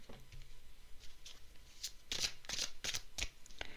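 Tarot cards shuffled and then drawn one by one, a run of crisp papery riffles and flicks with brief slaps, moderately close and alone with no talk.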